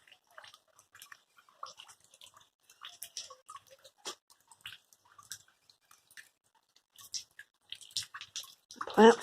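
Rain drips and patters in a small garden in Mesa, Arizona, with scattered irregular drops close by, sparse and quiet, ending in a louder splash.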